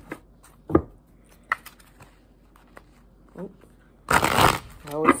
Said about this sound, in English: I can shuffle fine